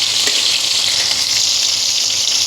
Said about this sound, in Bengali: বেগুনটা ভাজা হচ্ছে